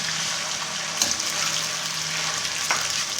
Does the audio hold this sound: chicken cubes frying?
yes